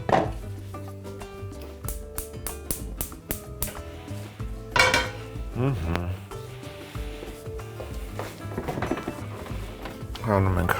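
Clanking pots, pans and utensils while cooking beef ribs with vegetables, with metallic clinks, scraping and knocks of a frying pan being set to work, under a speaking voice.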